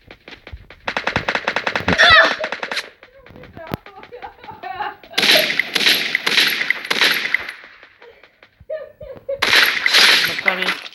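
Free Fire gunfire comes in rapid automatic bursts, three separate volleys of sharp rattling shots with quieter gaps between them, while a player talks.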